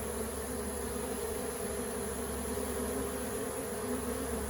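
A swarm of honey bees streams in toward its queen, the buzzing of many wings forming a constant, thick hum up close with no gaps.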